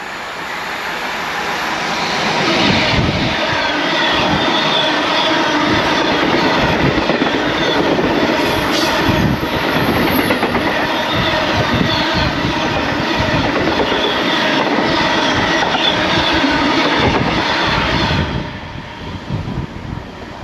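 A train rolls past on the rails close by for most of the run, a loud steady roar with clattering wheel noise that cuts off abruptly near the end, leaving quieter ambience.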